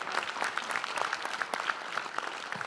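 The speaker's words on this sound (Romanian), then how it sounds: "Aplauze încă o dată pentru Sorin Tănase!" A festival crowd claps for a comedian at a humor show in Buzău, with distinct individual claps audible within the steady applause.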